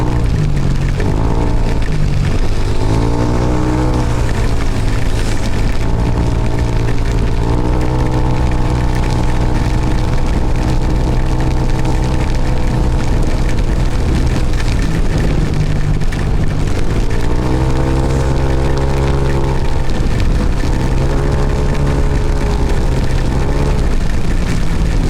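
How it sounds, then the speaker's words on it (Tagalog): Heavy typhoon rain roars continuously around a vehicle stopped at a traffic light on a road, mixed with a loud, steady engine drone and passing traffic, with no talking. "Lakas pa din ng ulan. Walang hinto."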